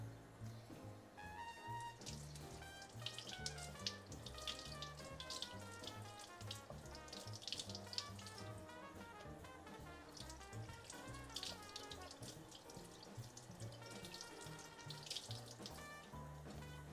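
Cherry blossoms being washed under a running kitchen tap, a steady near stream of water splashing in a sink while music plays over it throughout.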